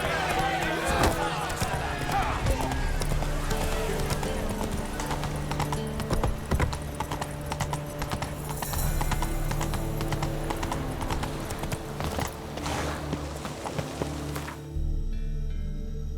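Hooves of the horse Roach pound in a steady galloping clip-clop in The Witcher 3, loud and continuous under game music and a voice, cutting off abruptly near the end.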